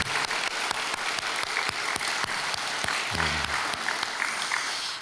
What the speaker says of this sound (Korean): 우리 수고하셨는데 박수 한번 더.